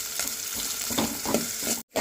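Curry leaves sizzling and spitting in hot oil for a drumstick curry, a steady close frying hiss with small crackles, cut off by a brief silence near the end.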